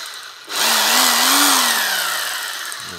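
A Hyundai H900 Expert rotary hammer starts up and drills into brick in plain drilling mode, a loud, close, sustained whine that wavers in pitch and then slowly winds down.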